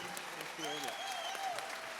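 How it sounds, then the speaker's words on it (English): A dance studio audience stands and applauds at a farewell for its director. Dense, steady clapping fills the room at moderate distance, and a voice speaks faintly underneath. "Let's everybody stand up and clap for Julie."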